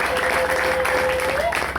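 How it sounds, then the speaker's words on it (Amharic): A church congregation applauds in a dense, steady wash of clapping that fills the room, with a voice sustaining a held tone over it. "አጨብጭቡ ለኢየሱስ።"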